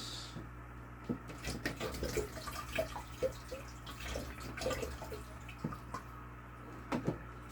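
Water is rinsed and stirred during a rotifer culture setup, a quiet run of splashes, drips and trickles in an irregular rhythm, heard close with no voices over it.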